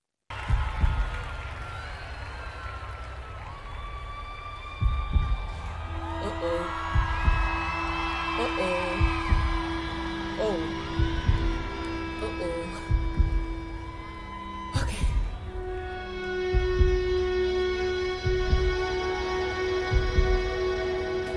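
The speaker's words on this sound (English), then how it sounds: "Those heartbeats." Deep heartbeat-like thumps pulse in a steady rhythm through a live concert recording at a stadium, under sustained tones, hum and faint crowd noise, with no speech.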